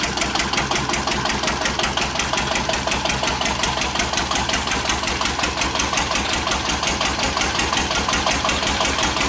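A 1941 Witte one-cylinder diesel generator plant runs steadily, its single cylinder firing in an even, rapid thump close by, with mechanical clatter above it for the whole stretch and no voices.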